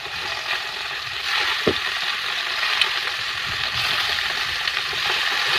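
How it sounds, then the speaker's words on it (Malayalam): Fish frying in a pan at home as part of a Sunday lunch, a steady broadband sizzle and crackle holding evenly throughout with a few sharper pops, close and alone. "അങ്ങനെ മീൻ വറക്കാനെല്ലാം ഇട്ടതിന് ശേഷം"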